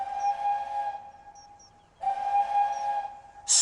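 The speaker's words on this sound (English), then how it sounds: "Spencer whistled long and hard." Steam engine whistle in a Roblox Thomas and Friends game, two long steady toots separated by a short gap, clear and fairly close, with no talk.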